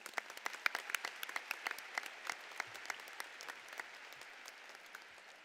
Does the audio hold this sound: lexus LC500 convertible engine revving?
no